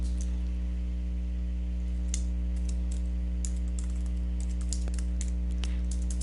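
Rapid keystrokes clatter on a computer keyboard in irregular bursts over a steady low electrical hum, with no talking.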